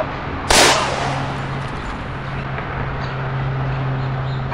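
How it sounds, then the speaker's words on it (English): A single sharp gunshot from a Colt 1911 pistol cracks near the start, followed by a steady hum and outdoor background noise. "I can't believe I just fucking shot myself."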